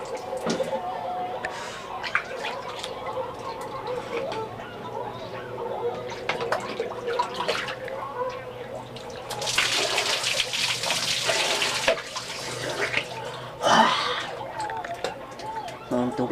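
Water pours and splashes during an outdoor shower, a hissing rush that swells in bursts amid dripping and running water, with people talking and laughing throughout.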